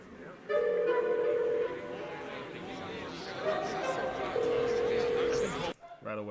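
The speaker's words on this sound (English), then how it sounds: "Right away, I hear phone calls." Telephone dial tones and ringing in a music video, with long flat tones that start and stop over a murmur of crowd chatter and voices.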